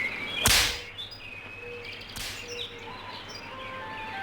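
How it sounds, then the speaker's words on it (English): Bird calls in the 1996 video game Harvester: scattered high chirps and whistled tones over a steady ambient bed, with two sharp broadband bursts standing out near the start. "apparently sound effects does not control the bird noises"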